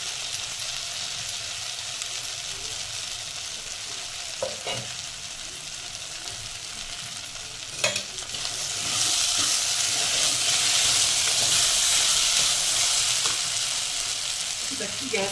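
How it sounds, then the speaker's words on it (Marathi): Rice grains frying in oil with a spoonful of ghee for veg pulao, a steady broadband sizzle with occasional stirring clicks, swelling louder and hissier in the second half, close and with no voices. "आता हे तांदूळ सुद्धा आपण असे तेलामध्ये चांगलं फ्राय करून घ्यायचे"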